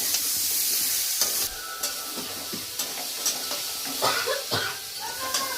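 Vegetable curry sizzles steadily in a hot pan while a spatula scrapes and taps during stir-frying, a constant close hiss broken by regular knocks.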